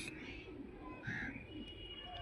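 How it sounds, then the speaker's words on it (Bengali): A female Malbai pigeon gives a soft, faint coo, brief and close, over quiet background noise. "এটা মাদি পায়রা"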